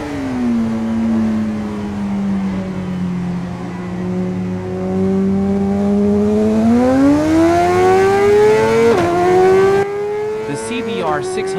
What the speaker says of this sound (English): liquid-cooled inline four-cylinder engine